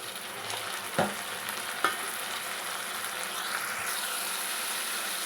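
Chopped tomatoes frying in a pan for a Telugu-style fish curry, a continuous close sizzle with a couple of sharp stirring clanks early on and no voices.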